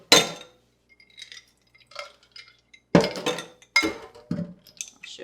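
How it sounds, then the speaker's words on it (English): Ice and water being poured into a large glass beaker, with scattered clinks and rattles of ice cubes against the glass, then a few louder knocks and clatters; a brief word is spoken. "now we want to take the larger beaker that we have and fill it with ice water"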